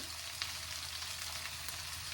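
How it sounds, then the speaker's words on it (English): Steady, gentle sizzling of a browning Dragon Beef tomato frying in a pan, a continuous hiss with tiny pops, close and fairly quiet, no voices. "The tomato is frying in the pan."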